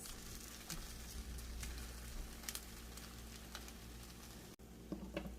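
Crustless grilled cheese dippers frying in a pan make a faint, steady sizzle with occasional soft pops and clicks, heard alone at a low level.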